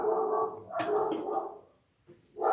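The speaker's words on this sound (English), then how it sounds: "Sorry for the barking dogs." Dogs bark in short bursts nearby in a home where shoulder-bag stitching is underway, a couple of yaps followed by a pause and another bark, moderately loud.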